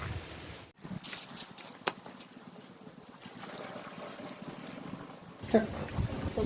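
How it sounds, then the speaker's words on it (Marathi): Water gushes into a sprayer pump's tank for several seconds, with a brief pause near the start and a soft voice underneath. "बरं आता मी टाकते पाणी"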